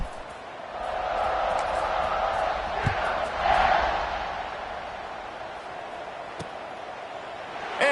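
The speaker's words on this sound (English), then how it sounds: "this crowd is buzzing after that last score" Steady, loud stadium crowd buzz in a college football video game, a broad sustained roar with a brief swell in the middle and no clear speech over it.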